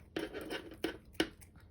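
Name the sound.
scissors cutting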